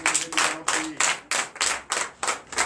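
A church congregation at a Sunday service in Comè, Benin, clapping in a steady rhythm of about nine loud, even claps, close by, with no talk over it.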